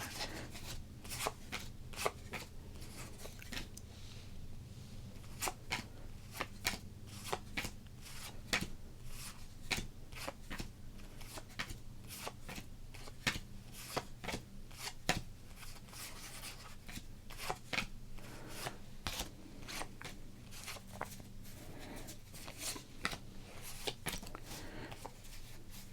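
Sports cards are sorted by hand in a run of soft, quick flicks and slaps as cards are thumbed through, close and quiet, repeating irregularly over a faint low hum.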